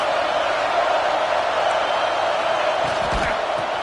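A loud, steady crowd roar from a Madden football video game fills the space, a dense continuous wash of noise without any clear break, with no talk.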